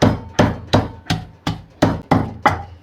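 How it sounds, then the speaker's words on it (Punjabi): Fenugreek leaves being pounded into a coarse paste for maize flatbread, eight heavy rhythmic thuds at an even pace, close and loud with no voices. "ਥੋੜੀ ਜੀ ਮੇਥੀ ਇਹਨੂੰ ਵੀ ਕੁੱਟ ਕੇ ਤਿਆਰ ਕਰਾਂਗੇ"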